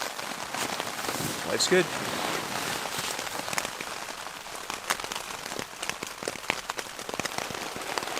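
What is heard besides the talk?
rain falling on a lake shore camp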